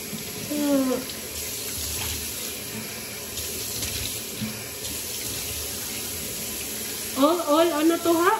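Tap water running steadily into a basin as warm and cold are mixed for washing the face, a continuous close splashing hiss under a few soft voice sounds.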